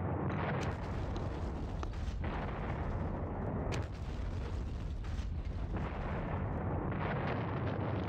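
Rumbling artillery fire and explosions from a World War II Normandy strategy war game roll on continuously, a loud low boom-laden wash with a few sharper bursts standing out.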